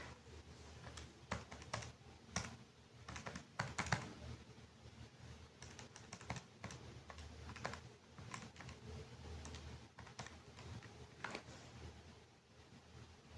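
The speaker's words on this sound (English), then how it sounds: "So I've typed that into the calculator" Numbers are keyed into a calculator during a statistics exam problem, giving a quiet, continuous run of small plastic key clicks in an uneven rhythm, close by and without talk.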